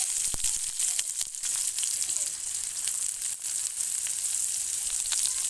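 Onion sizzling as it fries in a pan for a pumpkin-flower paste dish, a steady dense crackling hiss with scattered sharper pops, close and fairly loud, no talking.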